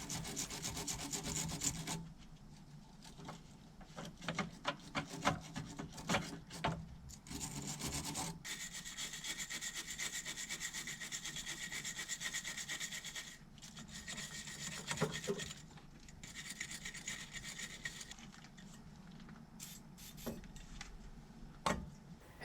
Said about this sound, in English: Cleaning the surface with wire brush and brake cleaner.